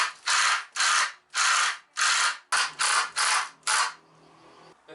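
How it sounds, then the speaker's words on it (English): A power drill or driver drives screws through wood into wall plugs in a garage shelf build, eight loud whirring bursts of about half a second each following one another quickly, then a quiet tail. "And place your screws through your piece of wood and into the plugs."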